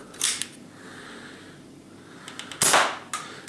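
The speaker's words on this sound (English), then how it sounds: "if I put a dart here, it'll fire it" A Nerf Rebelle Secrets and Spies Messenger blaster fires a foam dart, giving a short snappy click early on, then a louder, sharper pop-and-whoosh burst about two seconds later. It is close by, with no talking.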